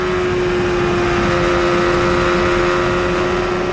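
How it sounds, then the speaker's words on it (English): An IndyCar racing through the turns at the 1993 Indianapolis round gives a loud, sustained engine drone with a steady high tone, heard close and alone without commentary. "Hear him back out as he goes through the turns. Back into the throttle for the short chute."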